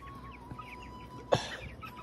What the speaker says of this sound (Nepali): भैँसी पाल्ने ठाउँमा मैले कुखुरा पाल्ने गरेको छु